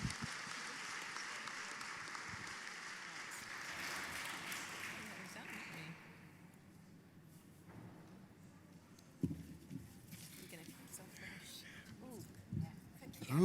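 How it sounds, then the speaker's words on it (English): An audience at the PRECIOUS Awards ceremony applauds the award winners and judges, a broad, steady clapping for about six seconds that then fades into a quieter room with scattered sounds and voices. "Big round of applause."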